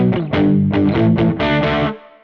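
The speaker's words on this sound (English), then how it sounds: "Then I have more of kind of an overdrive." A GTRS electric guitar with a built-in multi-effects processor, played without an amp, on an overdrive setting: a few crunchy, gritty strummed chords ringing in short bursts, loud and close, before fading out.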